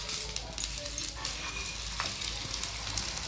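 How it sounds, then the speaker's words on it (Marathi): Dhapate, a Marathwada mixed-flour flatbread, sizzles in oil on a pan as it is flipped; a steady close frying hiss runs throughout, with a few faint scraping clicks and no talking. "व्यवस्थित आपल्याला हळूवार पलटायचं आहे जे नाहीतर मग तेल अंगावर उडू शकतं."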